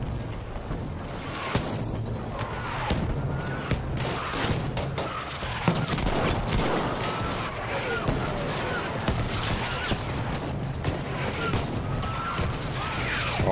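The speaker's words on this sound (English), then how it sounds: "Oh my god, that artillery was so good." Artillery strike in a video game battle for a town with a capture flag: repeated booming impacts and crashing blasts amid dense gunfire and ongoing combat noise across the whole stretch, with people talking throughout.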